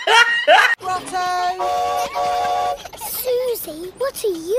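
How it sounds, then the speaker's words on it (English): A cartoon elf train's whistle sounds in sustained steady tones while departing for Santa's grotto in a Peppa Pig episode, set between bursts of animated character voices. "All aboard the elf train!"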